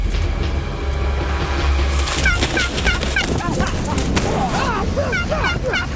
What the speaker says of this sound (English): I couldn't believe that gobbler had enough nerve to attack me.